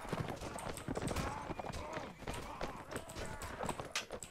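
Horse hooves drum at a rapid gallop in the Mount and Blade Warband Napoleonic-era mod, steady close clip-clop running through a busy battle din with a voice talking over it.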